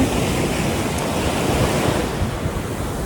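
Ocean surf washing onto a quiet beach at Las Terrenas in the Dominican Republic, a continuous loud roar of breaking waves mixed with gusty wind buffeting the microphone, with no voices.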